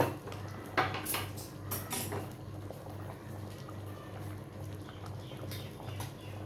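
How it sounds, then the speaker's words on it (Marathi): Steamed rice is tipped into cooked dal in a pot for dal khichdi, with a few light clinks and scrapes of a spoon against the metal and soft, quiet shuffling between them. "हा जो वाफवून घेतलेला राईस आहे तो यामध्ये मी घालून घेते."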